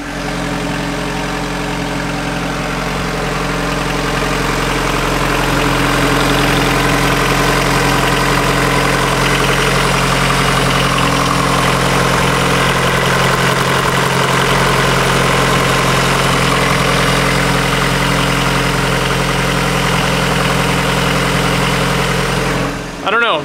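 A Honda engine with an abnormal noise idles loud and close, a steady droning rumble with a persistent mechanical tone running through it, and voices talk over it now and then.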